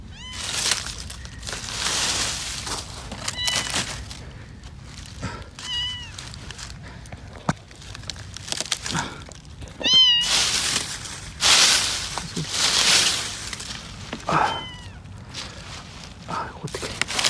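A kitten meows repeatedly in short, high, rising calls, fairly close, while a woman calls out and searches nearby, with rustling and footsteps between the cries.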